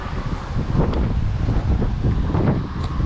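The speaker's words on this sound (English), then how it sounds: "And you can see the wind, I can hear it probably." Strong wind roars over the microphone outdoors in the Elan Valley, a loud, continuous, low buffeting rumble with no talking.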